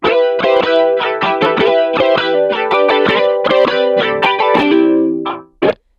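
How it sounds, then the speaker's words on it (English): Electric guitar run through the Spiff plugin's Aquarium Guitar preset, playing a rapid sequence of plucked, distorted notes with a watery, chorus-like wobble, loud and continuous for about five seconds before a brief final stab. "this preset is called Aquarium Guitar, and basically what it does is it kind of just makes you sound like you're in an aquarium"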